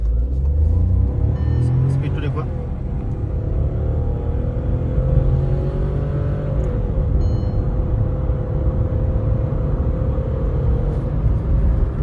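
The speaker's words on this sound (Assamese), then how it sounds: "এতিয়া গাড়ীখন অলপ ৰখাওঁ আপোনালোকক মই স্পীড টেষ্ট এটা কৰাই আছোঁ" An automatic Skoda Slavia revs up during a speed test, its engine note climbing and then holding a steady, droning pull with road rumble. Someone talks over it inside the cabin.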